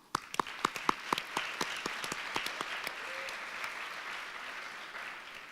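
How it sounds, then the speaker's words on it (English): Applause at a public policy competition final begins with distinct, separate claps and thickens into a soft, even patter from a modest audience, then fades to a quieter wash. "Let's give them a round of applause"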